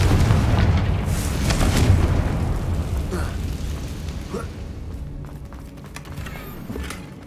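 A Confringo spell explodes in the Hogwarts Legacy video game with a loud, deep boom that rumbles and then slowly fades over several seconds, leaving faint crackling debris sounds behind it.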